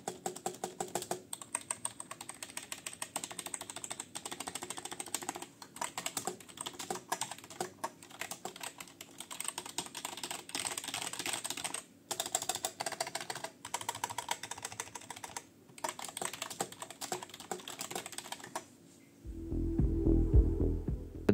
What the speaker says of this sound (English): even though this is not a mechanical keyboard, I'm still gonna make a sound test